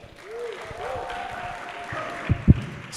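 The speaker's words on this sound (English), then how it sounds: "a big applause for her" An audience at a youth adaptation forum applauds a musician, light scattered clapping under a room murmur, with a couple of sharp louder claps or knocks near the end.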